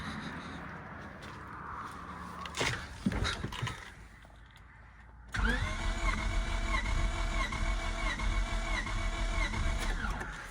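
A turbocharged Honda Civic engine cranks on the starter during a compression test, a steady rhythmic whirring that starts abruptly partway through and runs loud and continuous to the end, after some earlier clunks and handling noises.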